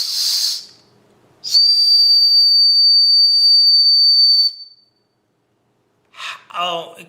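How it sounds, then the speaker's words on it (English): A piercing, steady whistle from a survival whistle built into a knife handle is blown for about three seconds after a short breathy burst, followed by silence and then brief talking. "It's got a built-in survival whistle."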